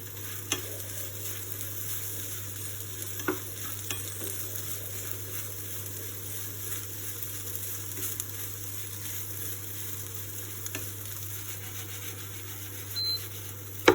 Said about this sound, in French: Et vous mélangez encore un petit peu